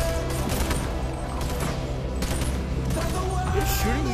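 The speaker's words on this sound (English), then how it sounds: "It's shooting me through the wall." Gunfire passing through a wall in the VR game BONELAB, a dense volley of rapid shots and crashing impacts over about four seconds, loud and close with a few scattered bursts.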